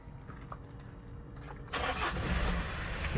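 A 2018 Hyundai Porter 2 truck with a manual gearbox and Euro 6 engine starts up: a soft cranking and ticking, then a sudden rise into a low, steady running rumble, heard close and moderately quiet.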